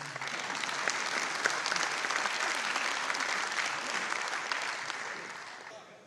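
Sustained applause from a large audience at a Diwali poetry gathering, a dense steady patter of clapping that holds for several seconds before tapering slightly at the end.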